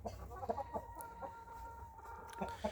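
Small young chickens of the Australorp breed clucking softly in short repeated bursts, fairly faint and close, with brief pauses between calls.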